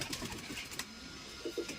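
Punjabi pigeons give a few low, soft coos close by, with two short coos near the end and no voices.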